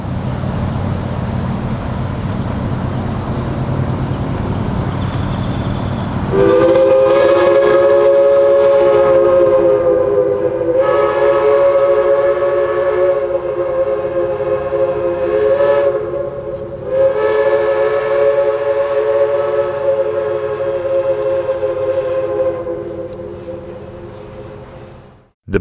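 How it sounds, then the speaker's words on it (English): CNJ 113, a steam locomotive pulling a benefit excursion on the Reading and Northern, roars past trackside with a long, loud multi-tone whistle held for many seconds over the rumble of the train. "Enjoy this footage of Chris Bost's benefit train ride, as seen trackside along the Reading and Northern"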